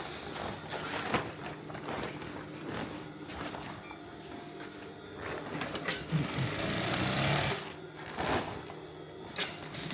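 A sewing machine stitches the mouth of a sack shut outdoors on a fruit-picking farm in Finland, giving a busy rattling mechanical whir in uneven bursts with some background noise.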